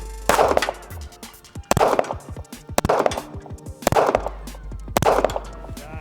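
Five sharp, loud pistol shots from an STI DVC fired outdoors at steel targets, spaced about a second apart, each with a fast echo and faint metallic ring, no speech.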